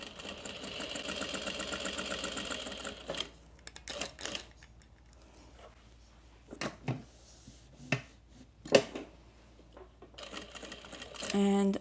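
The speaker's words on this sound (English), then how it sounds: "I've stitched down around that box" A sewing machine stitches fabric around a box seam on a tote-crossbody bag, running in a steady buzzing burst at the start and again at the end, with quiet handling clicks between.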